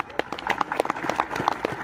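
Scattered applause from a gathered audience at a 102nd birth-anniversary commemoration, uneven claps at moderate distance with some voices mixed in.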